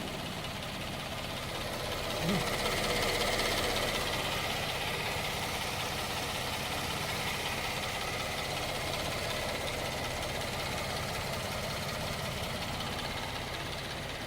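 A 3.0-litre six-cylinder car engine with 20,000 km idles steadily for the whole stretch, a smooth low hum with no revving.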